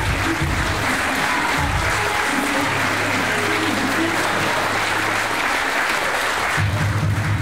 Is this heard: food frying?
no